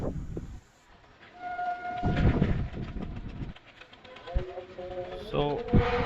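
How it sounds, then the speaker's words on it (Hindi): A train rolls past close to the tracks below a residential terrace, with sustained horn tones over the rumble and clatter of the wagons, while people talk throughout. "और ये ट्रेन आई है"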